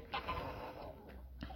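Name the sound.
chicken clucking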